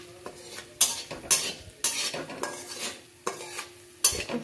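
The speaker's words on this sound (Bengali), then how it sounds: "এবার আমি একটু নেড়ে দেবো।" A spoon scrapes and clatters through fried spices and chopped ginger in a pan while cooking a Bengali vegetarian cabbage curry, giving several sharp, close metallic strokes over a faint sizzle, with no talking.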